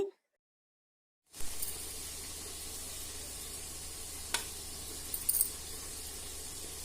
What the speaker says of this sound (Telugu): చాలా ఓపికగా నెమ్మదిగా వేయించుకోవాలండి వీటిని